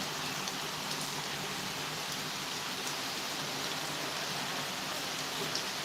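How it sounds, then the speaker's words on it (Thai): Steady, dense rain pours down without letup, a broad hiss of drops hitting surfaces all around, with no voices. "ฝนตกนะคะ แรง ขึ้นเรื่อยๆแรงขึ้นเรื่อยๆ แล้ว"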